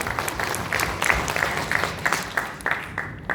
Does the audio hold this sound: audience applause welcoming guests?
yes